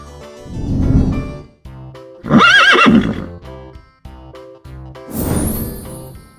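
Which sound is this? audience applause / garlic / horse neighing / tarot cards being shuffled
horse neighing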